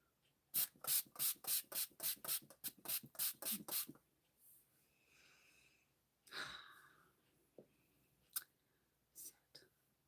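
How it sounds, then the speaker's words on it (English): A bottle of Anastasia Beverly Hills Dewy Set setting spray is pumped in a rapid run of about a dozen close, sharp hissing bursts, then quiet breathy whispering and a few stray spritzes follow. "I don't like spraying shit down here, but because I love you, I'll spray it."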